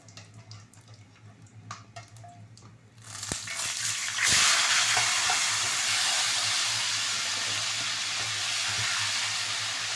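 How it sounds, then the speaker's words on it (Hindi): Chicken pieces dropped into hot oil to fry: a low hum at first, then a sudden loud, steady hissing sizzle that fills the rest of the clip, close and unbroken, with no talking. "ये मैं चिकन डाल दी है, ऑयल में फ्राई करके निकाल लूँगी।"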